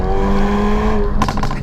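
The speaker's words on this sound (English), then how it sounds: "It just pops and bangs like a rally car." A Hyundai i30N's engine drones loudly up close, then its exhaust breaks into a quick burst of sharp pops and bangs near the end.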